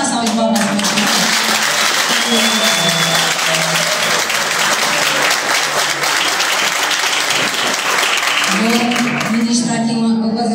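Loud, sustained applause from a church congregation honouring children at an Easter service, dense clapping filling the whole stretch with voices and music beneath it.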